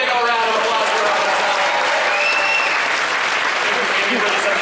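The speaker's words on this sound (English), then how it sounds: "everybody give them both a big old round of applause for us" An audience at a Universal Studios Hollywood show breaks into loud, dense applause that stays steady throughout, with crowd voices mixed into the clapping.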